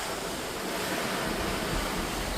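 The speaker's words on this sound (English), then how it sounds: "This is the ocean in the daytime, in the morning." Steady, broadband ocean wash on the open Atlantic, heard from a cruise ship in the morning, a continuous rushing roar with wind and no breaks.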